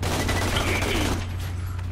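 Sustained gunfire aimed at a turret in Borderlands: The Pre-Sequel, a dense continuous volley of shots with a steady low hum beneath, loud and unbroken for the whole stretch.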